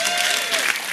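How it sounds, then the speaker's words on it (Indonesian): An audience at an evening gathering bursts into dense, loud applause, steady clapping that fills the whole moment without pause. "Tepuk tangan."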